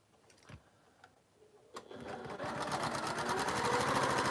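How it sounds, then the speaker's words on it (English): A sewing machine stitches quilt pieces together, starting after a few quiet handling clicks and then running as a fast, steady mechanical whirring chatter, close and loud. "I'm sewing my pieces together bit by bit"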